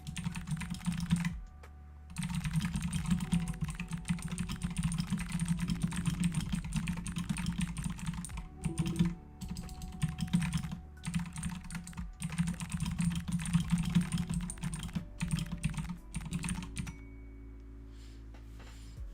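Steady typing on an RGB mechanical keyboard in a cozy room, a dense run of crisp key clacks that stops briefly near the start and again around the middle, then fades out near the end.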